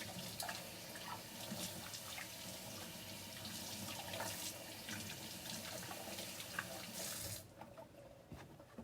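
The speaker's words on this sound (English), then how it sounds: "washing your hands and keeping your hands clean is a very important" Tap water runs steadily into a sink while hands are washed and rubbed under the stream, with splashes and faint clatter, before the flow stops abruptly near the end; no one speaks.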